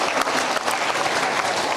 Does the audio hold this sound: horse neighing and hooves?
no